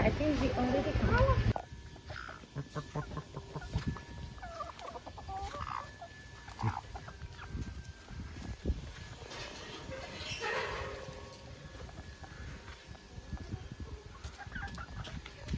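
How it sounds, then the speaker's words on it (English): On Koh Larn island in Thailand, a chicken clucks in short repeated bursts mixed with farmyard noises and what may be a dog bark, while people talk nearby through much of the scene. "Oh, it's a chicken."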